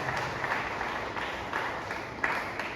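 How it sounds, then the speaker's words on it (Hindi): A church congregation claps in loose bursts during a Hindi worship service, the applause fairly distant and moderately loud, with little talk over it. "प्रभु यीशु मसीह के जोरदार ताली बजाएंगे।"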